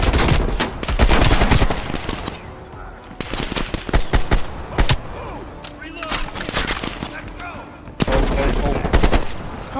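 Automatic weapons rattle off in Call of Duty: Black Ops Cold War, sharp close bursts and fusillades repeating through the scene, loud and punchy, with players chatting between the volleys.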